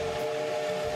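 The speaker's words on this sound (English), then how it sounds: "experience firsthand the majesty and raw power of the last fully operational steam locomotive in Canada" The Kettle Valley Steam Railway's steam locomotive 3716 in Summerland, British Columbia, sounds a steady, loud whistle, a sustained tonal blast over low rumbling.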